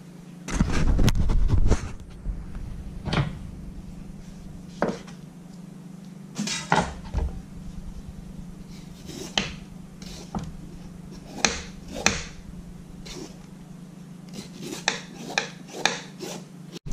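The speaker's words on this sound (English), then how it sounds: "We got a green papaya here, and the first thing we need to do is we need to peel it." A green papaya peeled by hand in a kitchen, with scattered scraping, rasping strokes and knocks against a board, some sharp and close, spaced irregularly over quiet background hum.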